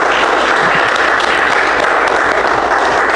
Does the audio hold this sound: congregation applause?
yes